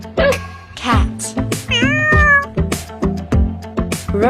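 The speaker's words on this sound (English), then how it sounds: "cat," A cat meows loudly, with one long drawn-out wailing meow and shorter mews over a bouncy, rhythmic musical backing.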